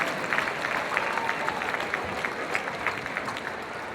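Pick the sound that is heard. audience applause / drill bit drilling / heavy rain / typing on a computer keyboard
audience applause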